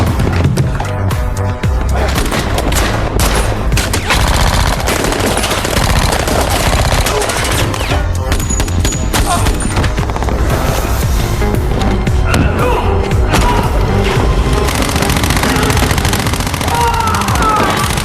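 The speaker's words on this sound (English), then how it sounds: "In an instant, a fierce gunfight erupted between the two sides." Dense, loud bursts of rapid gunfire crackle almost nonstop, like machine guns in a chaotic firefight, with intense action noise throughout.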